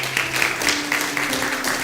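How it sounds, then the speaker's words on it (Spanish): A church congregation claps for God during a sermon on the crucifixion and resurrection, steady, fairly close applause lasting the whole moment with a sustained tone beneath it. "Dale un fuerte aplauso a Dios por eso."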